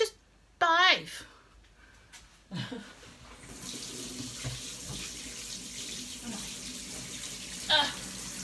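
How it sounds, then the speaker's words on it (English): Tap water runs into a kitchen sink for hand washing, a steady hiss that starts partway through and carries on, with a person talking over parts of it. "I gotta wash my hands, hang on."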